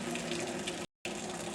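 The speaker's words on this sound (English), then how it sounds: "Okay, let's drain our beans." Water from a pot of boiled navy beans pours out in a steady rush, loud and continuous, with one brief gap partway through.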